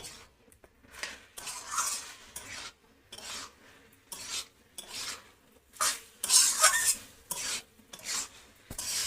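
Raw jackfruit and prawn curry stirred in a pan, heard as rhythmic bursts of scraping and clattering spatula strokes against metal over a soft sizzle, close up, with short pauses between strokes and no speech.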